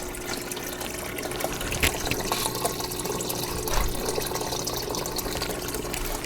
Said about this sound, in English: I got one 5-gallon bucket filling up